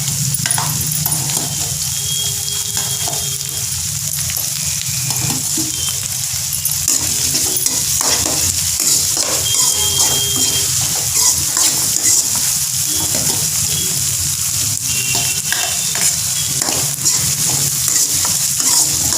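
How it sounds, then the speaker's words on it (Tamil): Chopped onions sauté in a pan for a village-style duck curry broth, giving a steady, even sizzle that runs unbroken throughout with faint scraping underneath. "வெங்காயம் நல்லா வதங்கட்டும்."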